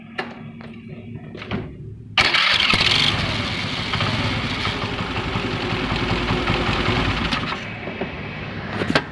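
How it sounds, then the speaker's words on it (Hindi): Honda Activa scooter self-starter with a slightly bent crankshaft cranking the engine: a loud, rough mechanical whirring with a rattling edge kicks in suddenly and holds steadily for several seconds, preceded by a few faint clicks. "ये आवाज़ क्रैंकशाफ्ट बेंड होने की वजह से आती है।"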